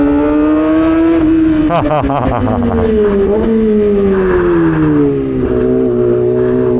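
A motorcycle engine revving hard and close as it shifts up and down through the gears without the clutch. The pitch climbs and drops in steps, loud and continuous, with a brief exclamation from the rider.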